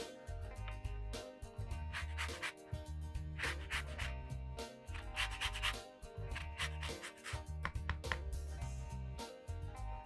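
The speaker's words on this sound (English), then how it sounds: "And the zest of 1 lemon." A lemon being zested on a grater for a thick sugar syrup: repeated quick rasping scrapes in a steady rhythmic run of strokes, close but soft, with a low hum underneath.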